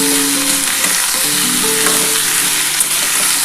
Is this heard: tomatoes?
yes